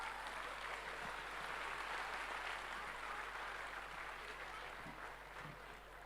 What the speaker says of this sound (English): Can we have a huge round of applause for these little ones?